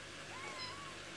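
A house cat gives one short, faint meow against a quiet room background.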